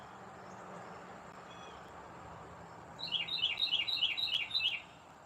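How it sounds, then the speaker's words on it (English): A run of six or seven bright whistled bird notes arrives after a stretch of quiet outdoor rumble, steady and moderately near, then stops. "Yeah, that bird wants to whistle."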